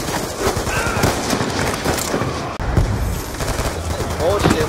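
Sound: gunfire from Black Ops 2 video game

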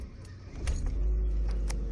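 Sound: Ford Fiesta 2003 supercharged car engine starting

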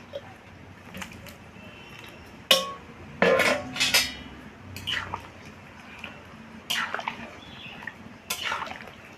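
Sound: fried potatoes added into simmering goat curry gravy in pot

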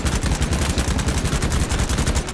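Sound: gunfire in video game BattleBit Remastered

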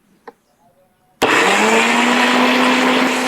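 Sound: mixer grinder blending juice

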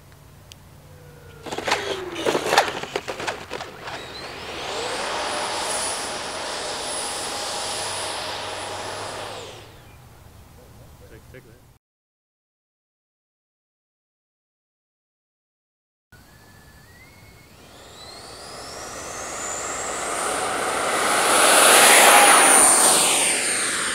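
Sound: Freewing F-14 Tomcat twin 64mm EDF RC jet landing

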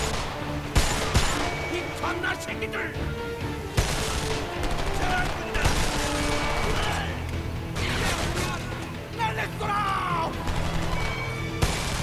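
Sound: ACR rifle gunfire in the video game Homefront

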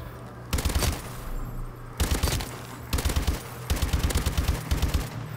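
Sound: gun firing in a video game

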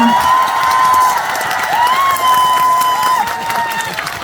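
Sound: crowd applause and cheering at outdoor performance

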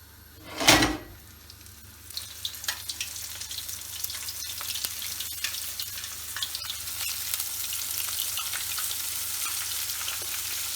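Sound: liver frying in hot oil in a pan

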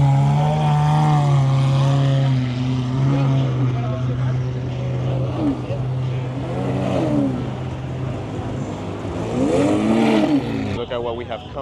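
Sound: Bugatti Chiron car arriving

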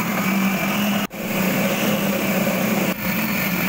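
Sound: grinder grinding beef shami kabab mixture with ginger and garam masala

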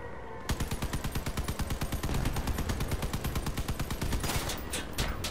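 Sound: gunfire in the vehicle combat video game Crossout

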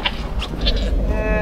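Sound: goat bleating

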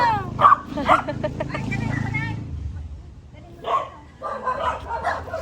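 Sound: dog barking

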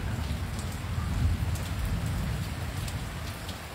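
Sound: rain

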